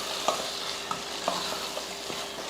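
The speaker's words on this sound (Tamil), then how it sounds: "புழிஞ்சிட்டு மொத்தமாக நல்லா வதக்கி விடுவோம்." Vegetables for a veg biryani sautéing and being stirred in a pan after lemon juice is squeezed in, a steady soft sizzle broken by a few sharp spoon scrapes and clinks, close and moderately quiet.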